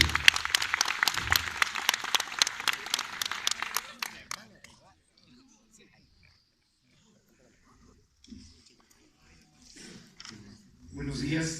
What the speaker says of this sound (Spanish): a recibir con un fortísimo aplauso